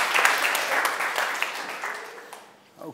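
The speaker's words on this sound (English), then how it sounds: "So give it an applause for Greg Biddle." Conference attendees give a speaker a warm round of applause, many hands clapping together at moderate volume before tapering off as the clip ends.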